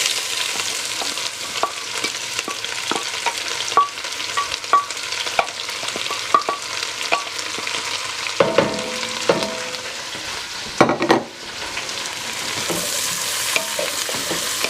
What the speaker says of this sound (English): Add the onion, poblanos, and garlic.